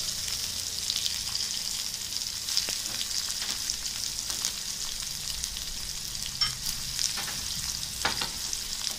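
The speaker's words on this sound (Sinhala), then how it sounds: "දැන් අපි මේක පුපුරනකොට වේලිච්ච මිරිස් කරල් 3-4 දාගන්නවා. මේකත් ටිකක් බැදෙනකොට බොම්බයි ලුණු," Dried red chillies and onion spluttering in hot tempering oil for a Sri Lankan dhal curry, a steady close sizzle with scattered sharp pops and crackles throughout, no voices.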